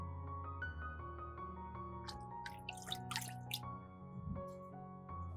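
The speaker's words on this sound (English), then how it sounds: "Wash the leaves so that all the dirt is gone." Fresh basil leaves washed by hand in a large bowl of water give soft drips, gentle splashes and squishy swishing, faint and close, over a steady low tonal hum.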